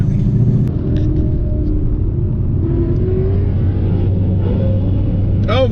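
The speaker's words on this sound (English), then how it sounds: "Oh, misshifted." A car engine rumbles loud and close with a steady drone during a missed gear shift on a freeway drive, the pitch dipping and sagging slightly partway through, with faint voices under it.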